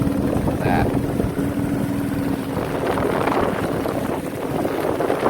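A motorboat engine drones steadily on open water, with wind buffeting the microphone and people talking over the noise.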